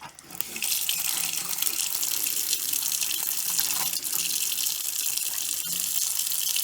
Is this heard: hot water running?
yes